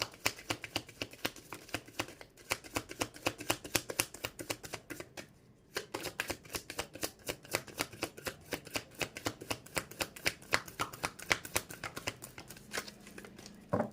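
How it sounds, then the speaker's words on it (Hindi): A deck of tarot cards being shuffled by hand, with crisp, rapid riffles and flicks repeating close up in quick bursts and one short pause midway. "Last shuffle."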